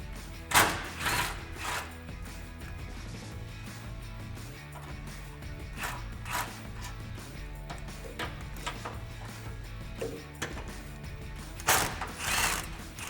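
A 10 millimeter socket wrench ratchets bolts out of a Ford F-150 frame rail, with bursts of clicking and a few louder metallic clanks spread over about thirteen seconds, close and without talk.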